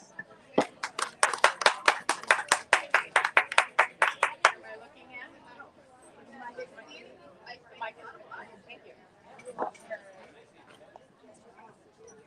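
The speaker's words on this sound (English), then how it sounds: "A round of applause." A small crowd at an outdoor book festival booth claps for an author, a few seconds of close, distinct hand claps in a quick irregular patter that stops abruptly, then gives way to quiet background chatter and scattered taps.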